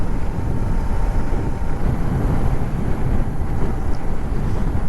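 Royal Enfield Interceptor 650 motorcycle cruising on a highway, a steady loud rumble buried in heavy wind roar that holds constant throughout with no pauses.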